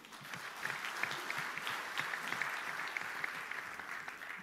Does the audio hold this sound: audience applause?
yes